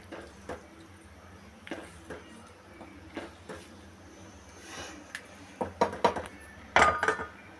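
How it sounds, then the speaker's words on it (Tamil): A spoon stirring food in a metal cooking pot, scattered clinks and scrapes that grow louder and busier toward the end. "போட்டோடனே சும்மா லைட்டாக கொஞ்சம் கிண்டி விடுங்க"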